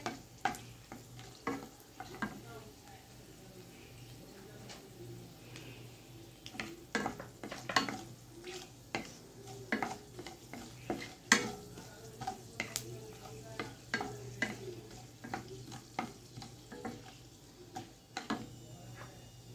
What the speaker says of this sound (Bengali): দু তিনটা শুকনা লঙ্কা একটু লাল লাল করে শুকনা লঙ্কাটা ভাজতে হবে।